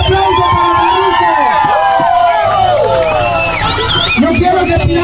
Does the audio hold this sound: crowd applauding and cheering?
yes